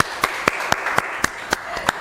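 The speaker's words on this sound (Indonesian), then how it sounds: "Tepuk tangan dulu dong." Rhythmic clapping at a school podcast session in Jakarta, sharp evenly spaced claps about four per second over a steady background hum.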